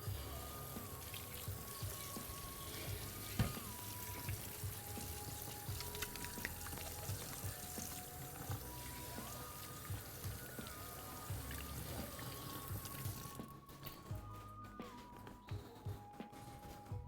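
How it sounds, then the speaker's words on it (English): Tap water runs steadily into a sink while hands are washed in a home kitchen, a continuous moderate stream over faint background music, cutting off abruptly near the end. "Then I'll wash my hands one last time."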